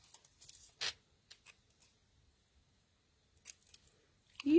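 Scissors cutting out paper card pieces at a stamping craft table, a few short quiet snips and rustles spaced apart, with a louder snip near the end.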